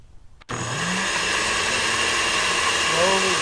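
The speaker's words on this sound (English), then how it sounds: "And then we're going to turn on our blender." A blender switches on abruptly and runs at a steady high whir while mixing hollandaise sauce from hot melted butter and bacon grease, heard close and alone, its pitch shifting slightly near the end.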